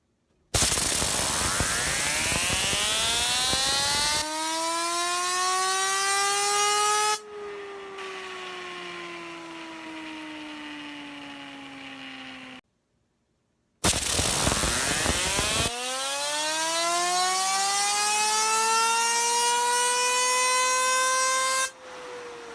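A Doomsday fidget spinner by Reaper Machining is spun up twice, each time a loud whirring tone that slowly sinks in pitch as it winds down, steady and close with a pause between runs.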